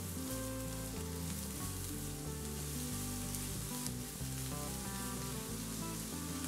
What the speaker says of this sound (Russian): и обжариваем еще пару минут